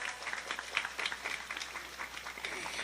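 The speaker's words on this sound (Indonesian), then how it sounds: "Saya minta tepuk tangan dulu kangge rencang-rencang panitia" Audience at a village mosque gathering applauds the organizing committee, a steady, moderately distant patter of many hands clapping without a break.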